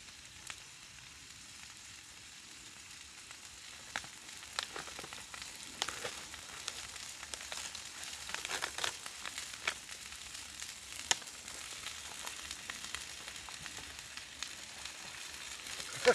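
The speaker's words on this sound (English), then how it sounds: "Not much room for a stir frying there" Food sizzling and crackling in a pan during stir frying on a small camp stove at an overnight wild camp, a steady close hiss with scattered pops and sharper crackles throughout, no talking.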